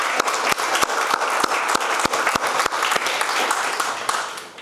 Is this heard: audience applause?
yes